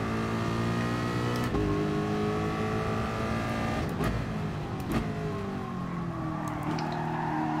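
A Ford race car engine in GT Sport drones and revs steadily at high pitch, with the pitch rising and falling through several gear changes and a few brief clicks and bumps. No one speaks over it.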